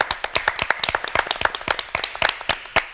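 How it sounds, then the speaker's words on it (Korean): A few people clap their hands in an uneven, fairly close patter on a Korean Christian talk-show set, with sharp distinct claps continuing for about three seconds and no talking. "제가 박수 한번 쳐드리고 싶습니다"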